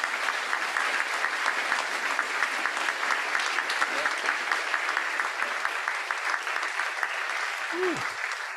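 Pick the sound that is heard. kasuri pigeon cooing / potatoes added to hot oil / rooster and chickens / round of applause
round of applause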